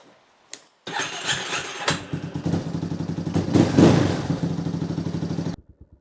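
An old Yamaha Warrior 350 ATV engine, said to have sat for a year, catches after a brief crank and runs rough and loud close by with a fast chugging pulse, then cuts off abruptly.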